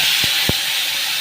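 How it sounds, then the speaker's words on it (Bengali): Ground spices going into hot oil left from frying potatoes for a Bengali fish dish, giving a steady close sizzle and hiss throughout with two brief low thumps near the start. "এবার এই তেলেই মশলাটা দিয়ে দিই।"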